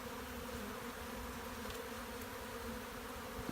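Honeybees buzz steadily around a hive during a spring colony cleanup, a dense continuous drone from many insects nearby with no voices.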